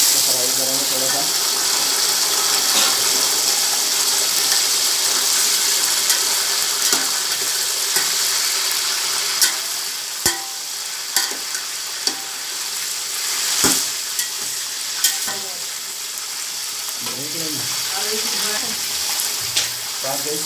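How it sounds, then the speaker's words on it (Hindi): Mutton fries in a pot with browned onions for biryani, a strong, continuous sizzle close up, punctuated by sharp clanks and scrapes of stirring that grow more frequent toward the end. "हम सबसे पहले ये गोश्त डालेंगे, इसको फ्राई करेंगे थोड़ा सा"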